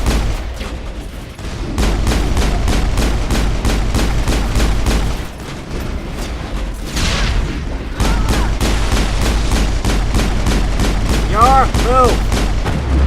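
Dense, rapid gunfire from a Mass Effect shootout rattles on almost without pause, loud and close, with brief lulls and some electronic weapon whines near the end; voices shout through the firing.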